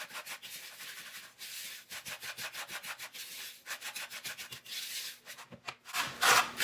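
Cheesecake crust crumbs are stirred and scraped in a bowl, giving rhythmic gritty rubbing strokes, close and fairly loud, repeating steadily with brief pauses.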